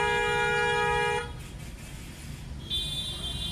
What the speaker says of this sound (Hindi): हॉर्न दो लंबा, हॉर्न दो लंबा।